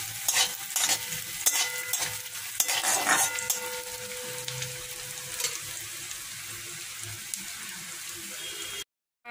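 Spice masala for an aloo paratha filling fries in a pan with a soft, continuous sizzle broken by scraping stirs and clinks near the start, gradually settling into a quieter hiss before cutting off.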